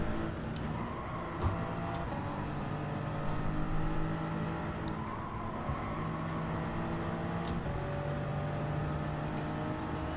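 Porsche race cars in Gran Turismo 7 at the Nürburgring at night, with several engines droning together in a steady, dense drone and faint higher whines shifting as the cars run close.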